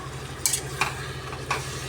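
Marinated chicken for biryani sizzles and fries in a pan while being stirred, a continuous close sizzle broken by three sharp scraping strokes of the spoon.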